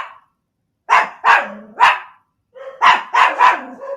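Several dogs bark in quick bursts, loud and close, in two clusters of three or four sharp barks separated by a brief pause.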